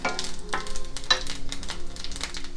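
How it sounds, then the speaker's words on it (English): Fennel seeds hit hot oil in a pan and crackle and sizzle loudly while being tossed, with no talking. "So oil is heated, so I'm going to add this fennel."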